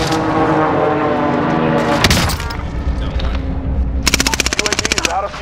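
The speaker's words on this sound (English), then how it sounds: "Enemy precision airstrikes. This is Phoenix 3. Strike inbound." Explosions and rapid gunfire from a precision airstrike in Warzone, heavy booms through the first two seconds followed by a fast, loud burst of repeated cracks near the end, over continuous battle noise.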